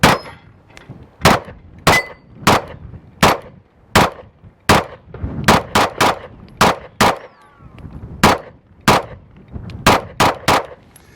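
A Dan Wesson Race pistol fires CCI Blazer Brass at 12 yards. About eighteen sharp, loud shots ring out at an irregular pace, some in quick pairs and some with short pauses between them.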